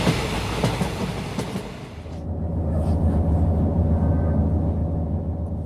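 A train runs steadily along the rails, a low rumbling drone with rhythmic wheel clatter, fairly close and continuous, with no voices over it.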